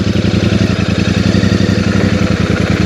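Royal Enfield Super Meteor 650 parallel-twin engine thumping loudly and close during a braking test, a rapid even pulsing beat with a deep throbbing exhaust note held steady throughout.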